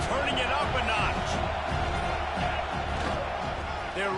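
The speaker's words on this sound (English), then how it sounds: "this crowd is turning it up a notch" Large stadium crowd at a homecoming football game swelling in volume, a broad steady roar of many voices with scattered shouts, under a play-by-play announcer talking.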